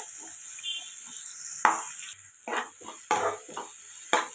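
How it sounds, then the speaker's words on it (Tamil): Finely chopped onions sautéing in a pan until golden for pepper chicken, with a low sizzle broken by several sharp scraping stirs and clinks of a spatula against the pan, close and moderately loud, no voices. "கொஞ்சம் பொன்னிறமாக வதக்கலாம்."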